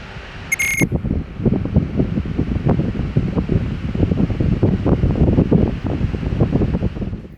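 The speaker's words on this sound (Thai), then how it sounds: "เราก็จะมาทดลองตัวฟัฟฟี่ตัวนี้นะคะด้วยพัดลมอันนี้นะคะ" An electric fan blowing straight at a Sony ZV-E10 camera's microphone fitted with a fluffy windscreen, giving a loud, steady rushing buffet with fluttering pulses and a brief chime near the start.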